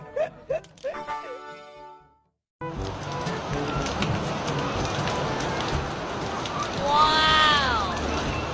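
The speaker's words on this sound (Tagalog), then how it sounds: "si Mateo naliligo ng ulan." Steady rain hisses loudly after a short pause, with talk and a yipping sound before it and a brief bird-like chirp over the downpour.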